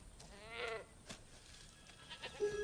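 A goat bleats twice, a wavering cry early and a shorter one near the end, fairly faint, with small knocks and rustles between.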